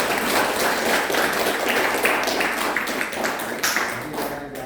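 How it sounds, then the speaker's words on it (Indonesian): An audience at a university guest lecture bursts into steady applause, a dense wash of many hands clapping at moderate distance, lasting several seconds and tapering slightly at the end. "Kita berikan tepuk tangan dulu ya."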